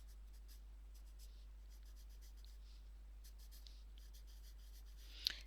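Pastel pencil drawing on paper, adding dark hatching and cross-hatching to a coloring illustration: soft, close scratchy strokes come in short bursts, with a brief sharper tap near the end.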